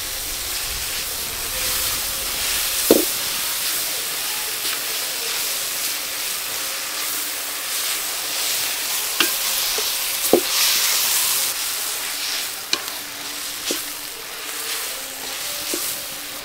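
Tomatoes sizzle and fry in a pan with ginger garlic paste, a steady hiss of frying broken by a few sharp scrapes of stirring, close and continuous with no voices.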